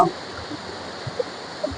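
Water flowing at Anakkulam waterfall in Kerala during rainy weather, a steady broadband rush of the stream running continuously at moderate level with a few faint knocks, no talking.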